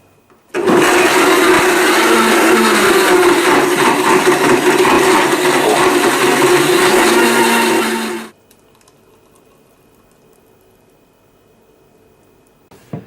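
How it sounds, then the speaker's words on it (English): A blender runs on high, whirring a smoothie of Greek yogurt, cherries, banana, walnuts and honey: a loud, steady grinding roar that starts abruptly, holds for about eight seconds, then cuts off to near silence. "Just blend this on high for about 30 seconds."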